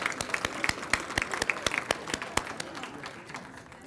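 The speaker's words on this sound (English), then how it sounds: "let's give a round of applause to our band" Applause from a gala dinner audience for the band at an annual heritage celebration, sparse distinct claps thinning toward the end, moderately close and without talk.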